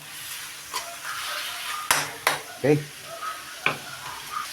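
Boiled pork for pichero being stirred and tossed in a hot pan, with soft sizzling throughout and a few scraping clinks of the spoon against the pan, close up, with a brief spoken word.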